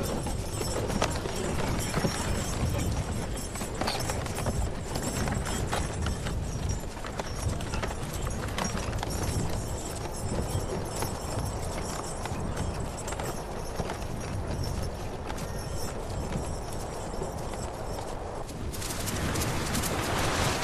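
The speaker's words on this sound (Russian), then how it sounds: "Лошади путешествуют вместе с людьми." Horses walk steadily alongside people travelling in search of new land, their hooves clip-clopping in a continuous close rhythm with faint birdsong behind and no talk.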